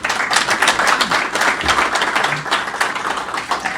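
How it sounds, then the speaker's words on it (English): Audience applause at a lecture by a rabbi, a continuous, fairly loud patter of many hands clapping with scattered sharper claps that carries evenly to the end. "Please give him a round of applause."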